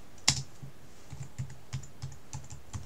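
Keys tapped on a computer keyboard, one sharp click followed by a light, irregular run of soft keystrokes, close and quiet with no speech.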